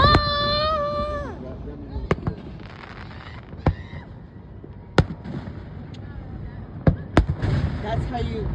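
Fireworks bursting over a large lake in New Jersey, several sharp booms and crackles at irregular intervals after a rising whistle, with crowd chatter, a child's cry and excited voices underneath.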